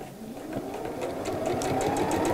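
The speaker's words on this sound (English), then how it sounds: "So back stitch at the end of the gap, just to make that seam a little bit stronger" A sewing machine back-stitches a seam on a fabric dog bed, running steadily and close with a continuous whirring hum of rapid needle strokes, growing slightly louder and denser toward the end.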